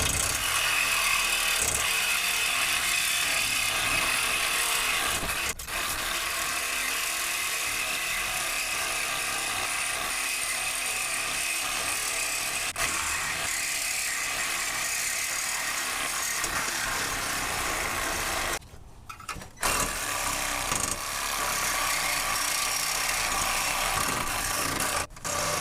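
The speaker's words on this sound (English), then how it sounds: "My reciprocating saw is getting a little tired" A reciprocating saw cuts through a car's front lower control arm bushing, a loud continuous buzzing rasp that runs almost unbroken, with one brief stop and restart near the end, close up and with no voices.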